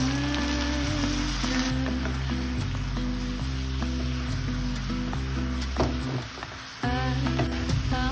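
Soy sauce sizzles in a hot pan during a spicy Korean fishcake stir-fry, a loud steady frying hiss over background music, dipping briefly near the end before it resumes.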